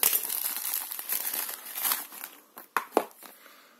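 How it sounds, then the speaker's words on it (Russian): Crinkly plastic packaging from a parcel shipped from China is rustled and crumpled close up, a dense run of crackling that thins out into a few sharp separate crinkles near the end. "распаковка посылки"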